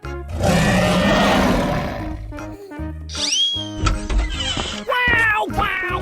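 A lion roars loudly in a 3D animal slide video game, a rough, breathy blast lasting about two seconds. Cartoonish vocal effects and chirpy game sounds follow.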